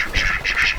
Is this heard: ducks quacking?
yes